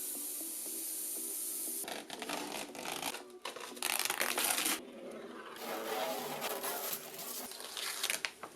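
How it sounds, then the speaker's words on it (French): Packaging crinkles and rustles near the mic as black pearl Peugeot car paint is unpacked, in uneven bursts of crumpling and rubbing over a steady background hiss. No one speaks. "Quel plaisir de déballer"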